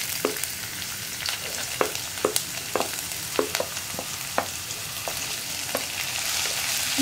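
Ginger and garlic sizzle and fry in a hot pan for a chana kurma, a steady crackling hiss broken by repeated sharp stirring clicks, with no voices.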